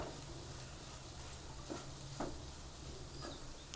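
Spiced paneer and corn filling, seasoned with turmeric and salt, is stirred in a pan, giving a low, steady sizzle with a few soft scraping strokes from the spatula and no voices.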